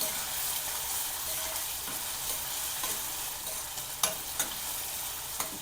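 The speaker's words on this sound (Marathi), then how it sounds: "कांदा चांगला आपण परतून घेणार आहोत।" Chopped onion sizzles steadily in a hot pan while making jhunka, with a continuous frying hiss and a few sharp clicks of a spoon stirring against the pan near the end.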